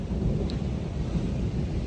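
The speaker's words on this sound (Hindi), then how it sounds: "ये हल्की फुल्की बूंदाबांदी हो रही" Light rain drizzling outdoors in the Garhwal mountains of Uttarakhand, a soft, dense, continuous patter with a low rumbling wash underneath and no voices.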